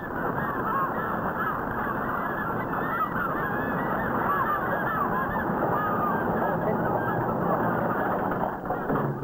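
A dense crowd of gulls and gannets squawks and cries continuously around a trawler hauling its net aboard at sea, a loud, busy chorus of overlapping calls.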